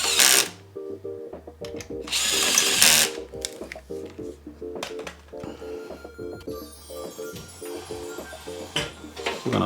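A power drill drives bolts into the front of a Koda utility cart with a pull-out tray. Whirring bursts come in short spurts, mixed with clicks and rattles of metal parts close by.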